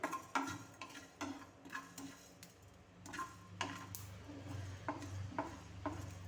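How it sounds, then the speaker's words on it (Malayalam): Mustard and fenugreek seeds pop and crackle in hot oil along with dried red chillies, giving sharp, irregular little ticks and snaps that come close and clear over a low steady sizzle. "കടുക് ഉലുവയൊക്കെ നല്ലവന്നൊന്ന് പൊട്ടി വന്ന് പൊട്ടിക്കൊണ്ടിരിക്കുകയാണ്"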